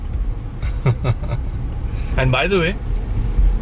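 Road traffic surrounds a car on a busy Saturday: a steady low engine and road rumble with a brief tonal blare partway through, while someone talks over it.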